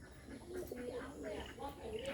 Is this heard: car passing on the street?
no